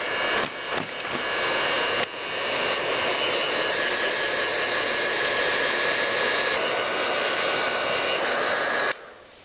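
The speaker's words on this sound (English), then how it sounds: "I use about a 20-year-old Weller. Best heat gun ever." A roughly 20-year-old Weller heat gun blows hot air in a loud, steady broadband whoosh, close and continuous, with brief handling knocks near the start and an abrupt cutoff at the end.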